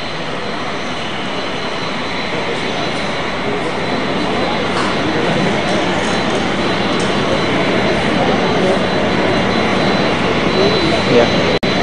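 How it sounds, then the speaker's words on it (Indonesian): A steady, loud roar of jet engines from an arriving airplane fills the air continuously, a broad rumbling drone that holds level throughout. "Ada kedatangan satu pesawat."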